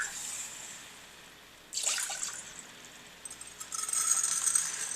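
Water is poured into a cooking pan for brown rice, a soft splashing and trickling that swells partway through and keeps running, fairly quiet and close, with no talk.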